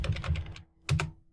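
Fingers typing a command on a computer keyboard: a quick burst of about five close key clicks, a short pause, then two more taps, crisp and fairly quiet with no talk.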